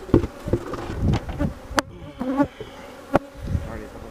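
Close honey bee buzzing near a hive in Tiffin, Ohio, with several loud individual bees zipping past the microphone in short bursts over a low drone.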